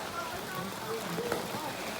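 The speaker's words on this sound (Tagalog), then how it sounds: "mababasa talaga kasi lakas ng ulan" Heavy rain pours steadily in a dense, even wash, heard while out cycling in the downpour, with faint voices mixed under the constant hiss.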